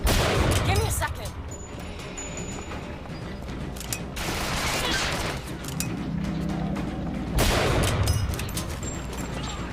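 Turrets fire loud, dense bursts of gunfire in Bioshock Infinite, continuous booming volleys that pause briefly before resuming, with voices talking over the barrage.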